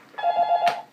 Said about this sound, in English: Oh, jeez, my other phone again